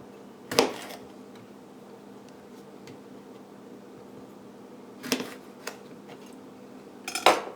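A knife slicing the tops off jalapeno peppers on a cutting board, three sharp, isolated chops spaced several seconds apart over a steady low background hum.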